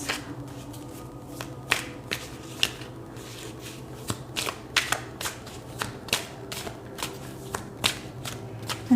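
A deck of cards is shuffled and riffled repeatedly in sharp, crisp bursts, close and fairly loud over a quiet room.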